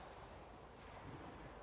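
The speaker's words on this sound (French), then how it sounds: "les vagues" Ocean waves wash steadily against the shore under a sunny sky, a soft continuous roar of surf mixed with light wind rumble, faint and even with no distinct breaks.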